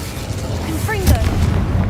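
A Bombarda explosion spell in Hogwarts Legacy lands as a deep, rumbling boom, loud and close, under a voice that calls out spell names.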